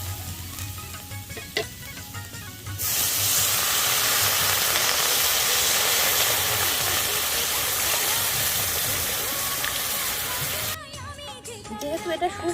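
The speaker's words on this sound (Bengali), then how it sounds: "এবার আমি জল দিয়ে দেবো।" Water poured into a pan of lightly fried vegetables for an egg soup: quiet clinks and stirring give way to a sudden loud, steady hiss and boil that lasts several seconds, then cuts back to softer bubbling and stirring.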